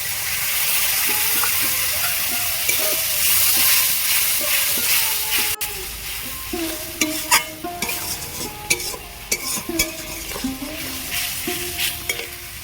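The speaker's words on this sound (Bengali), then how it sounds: "আমি ভেজে নিয়েছি পেঁয়াজ টমেটো কাঁচা লঙ্কা যে মশলাটা গুলে রেখেছিলাম দিয়ে দেবো" Spice paste hitting a hot pan of fried onion, tomato and green chilli for a fish curry: a loud hissing sizzle at first, then repeated clattering stirs and scrapes over continued frying.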